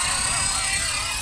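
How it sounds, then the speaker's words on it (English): A Blade 230 S Smart RC helicopter flying nearby, a steady whirring rotor drone with a high-pitched motor whine, continuous over the short stretch. "The 230S, Smart, such a good helicopter."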